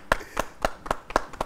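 A few people in a small studio audience clap sparsely, six or so distinct sharp claps in an uneven rhythm, close and clear, voting for a singing duo.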